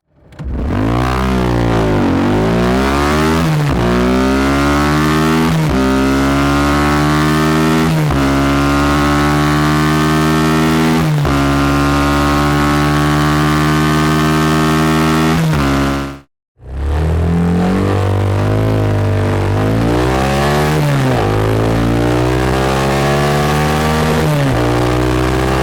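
A Suzuki motorcycle engine screams loudly through repeated rising revs toward its 10,000 RPM redline, each sweep building before dropping back. There is a brief cut midway, and then the revving resumes, strong and close.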